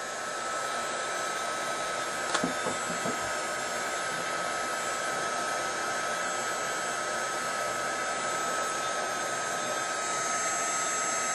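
A heat tool blows steadily and evenly, a constant loud whirring hiss as it dries sprayed antiqued tin foil flowers, with a faint clink early on.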